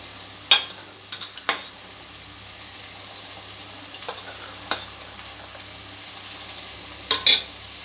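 Peas go into a pan of frying masala, giving a low, steady sizzle with a few sharp metallic scrapes and taps from the spoon, some spaced apart and a quick pair near the end.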